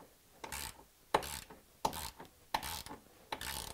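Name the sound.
ratchet wrench removing 13mm bolt in Jeep JK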